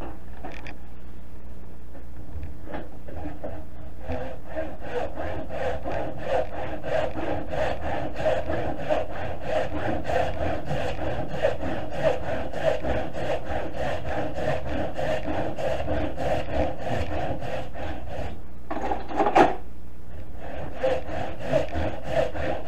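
Handsaw cutting a piece of wood held in a vise, steady rhythmic back-and-forth rasping strokes repeating for over twenty seconds, close and moderately loud, with a brief pause and clunk near the end.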